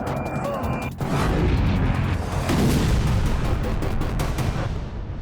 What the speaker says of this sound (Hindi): क्रीमिया के सेवेस्तोपोल से आई ये तस्वीरें मिसाइल इंटरसेप्शन की।